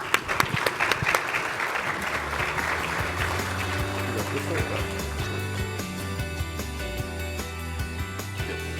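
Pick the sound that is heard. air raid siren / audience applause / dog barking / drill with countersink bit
audience applause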